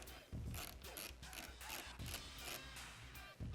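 A ratchet wrench removes the radiator shroud bolts on a Husqvarna TX300 motorcycle, making steady repeated clicking and ratcheting close by, with a faint low hum underneath and no speech.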